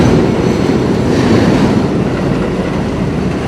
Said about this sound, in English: The entire station is shaking because of the train.